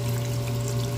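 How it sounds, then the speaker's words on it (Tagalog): Clean mineral water pours steadily into a cooking pot, a short continuous gush with a low humming tone beneath it. "Sasabawan na po natin siya ng malinis"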